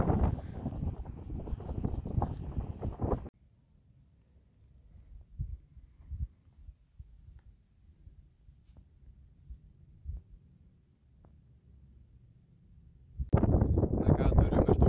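Wind buffets the microphone on a high mountain ridge in the Tatras, with heavy low rumbling gusts at the start and end and a softer, fluttering rumble in between.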